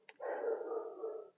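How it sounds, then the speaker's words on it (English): A dog gives a single short bark up close, a brief tick just before it, with no talking. "Then Cheetah's at it again, barking."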